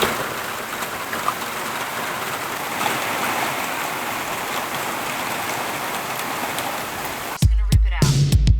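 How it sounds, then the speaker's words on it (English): Steady rain falls outdoors in a continuous broadband hiss for most of the stretch, even and moderately loud, ending with a sudden louder clatter near the close. "It's still raining a little bit outside, nowhere near as much"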